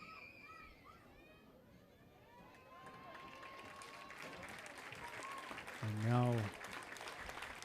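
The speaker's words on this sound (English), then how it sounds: "Another big round of applause from both teams' fans." Scattered applause and cheering from both teams' fans at a high school baseball game, moderate and somewhat distant, mixed with crowd noise and children's voices, with a short spoken phrase near the start.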